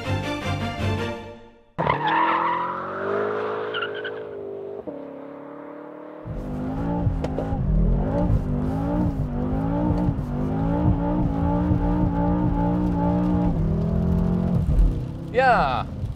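A BMW M6 Gran Coupé's 4.4-liter S63 TU V8 engine, 560 horsepower, revs and howls with shifting pitch while drifting, tires squealing loudly, ending in a sharp high screech.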